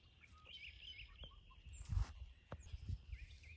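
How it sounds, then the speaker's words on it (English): Faint clucks and chirping calls from chickens, with a few soft thumps and scuffs nearby in a quiet outdoor setting. "But the chickens are doing fine and they're happy this morning."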